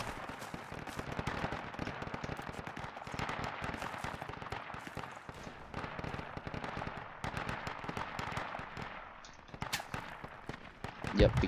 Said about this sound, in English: I'm taking the heavy fire from the south, straight south.